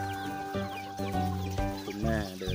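Native Thai chickens on a free-range farm cluck and call repeatedly, close and clear, with overlapping bursts of clucking and brief low background sounds.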